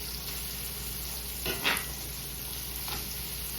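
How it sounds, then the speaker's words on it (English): Vegetables for gravy fry in a pan, giving a soft, steady sizzle with a couple of brief louder crackles or stirs partway through, and no voices. "Let this fry for about another 2 minutes for my vegetable consomme."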